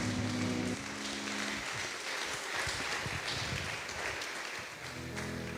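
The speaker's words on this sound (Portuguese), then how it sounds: "que as palmas louvem o nome santo do Senhor" A church congregation breaks into applause, a steady wash of many hands clapping, with sustained musical tones sounding at the start and returning near the end.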